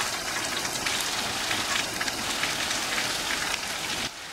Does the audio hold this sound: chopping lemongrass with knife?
no